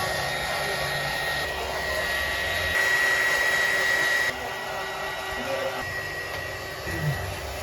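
A heat gun blows steadily while drying a second coat on a DIY carbon fiber motorcycle skinning job, a continuous close airy roar with slight shifts in pitch and level and no talking.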